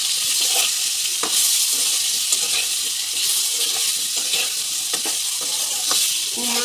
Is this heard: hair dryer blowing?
no